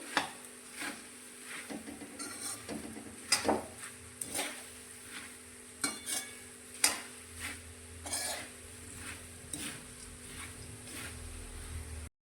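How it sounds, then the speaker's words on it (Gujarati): Puffed rice and sorghum popcorn roasting over a low gas flame, stirred in a pan with soft, irregular scraping and light rustling taps that come and go close by, with no talking. "ધીમા ગેસની ફ્લેમ પર આપણે મમરા અને ધાણી એકદમ સરસ એવા ક્રિસ્પી થાય ત્યાં સુધી તેને આ રીતે શેકીશું"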